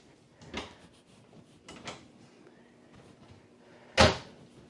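Pull-out pantry drawers in a 2022 Grand Design Solitude S Class 3330RE RV slide open and shut, three separate soft thuds with the last one loudest, in a quiet interior.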